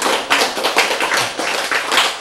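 Audience clapping fills a lecture hall at a Korean Bible talk, dense and steady for a couple of seconds with no voices over it.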